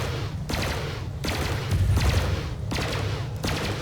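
Bursts of ship weapons fire in Elite: Dangerous during a space battle around a Cobra Mark III and a Federal dropship, coming as rapid repeated volleys with short gaps over a steady low engine rumble.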